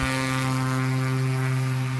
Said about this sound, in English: I don't know if that plane could maybe be louder.